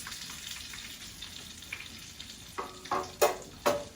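A cutlet sizzles in a hot pan, a steady soft frying hiss with several louder crackling bursts near the end as the piece is set down, no talking.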